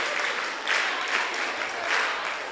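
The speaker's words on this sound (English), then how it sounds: "Clap for yourselves" Audience at a mentorship session claps steadily for a few seconds, a dense, even wash of hands with small swells and no voices over it.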